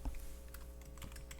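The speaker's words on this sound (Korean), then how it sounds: "그래서 좀 타이핑을 쳐드릴게요." Soft, quick tapping on a computer keyboard, a brief run of light key clicks heard nearby and fairly faint.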